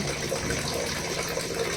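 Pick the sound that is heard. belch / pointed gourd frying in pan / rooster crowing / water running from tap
water running from tap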